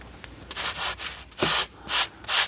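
Sandpaper rubs across the Alcantara interior of a Corvette in a series of short, close scratchy strokes, each a soft burst of rasping friction with brief pauses between, alone without talk.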